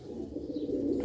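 Grey-breed Sialkoti pigeons coo in a low, steady murmur over about a second, fairly close and moderately loud, with no talking.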